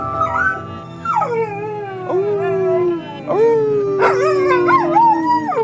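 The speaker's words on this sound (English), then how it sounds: "how many dogs get their own room? He's the most spoiled dog in Los Feliz" Bobby, a pampered dog in Los Feliz, howls in long wavering tones broken by sharp yips and whimpers, loud and close, with no one talking.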